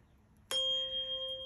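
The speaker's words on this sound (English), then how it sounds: "ringing the bell to help clear the space and streaming grace to replace" A single bell is struck once and rings out, its clear tone sustaining and slowly fading over the next second in a quiet room, used to clear the space during a meditation.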